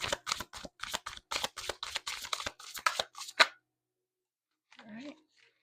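A deck of cards being shuffled at close range: a fast run of crisp riffling bursts for about three seconds, ending in a sharp snap, then silence and a brief murmur of voice.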